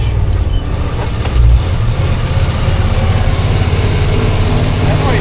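A 1973 International truck engine runs loud and steady at close range, a heavy low rumble with a brief surge in level as the gears are shifted into second and then third in high range.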